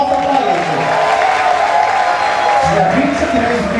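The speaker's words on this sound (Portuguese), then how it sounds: "Eu dependo do aplauso de vocês pra me dar uma resposta pra ele." A nightclub audience at a drag show answers with a loud, sustained wash of cheering and applause, a dense roar with voices shouting over it, steady from start to finish.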